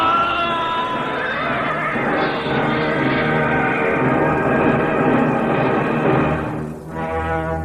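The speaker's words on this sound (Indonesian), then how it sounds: "kuda itu berdiri dengan kedua kaki depannya diangkat tinggi-tinggi" A horse neighs long and loud as it rears in a radio drama sound effect, a harmonic whinny that carries for several seconds, dips briefly, then rises again in a second shorter cry, with no talk.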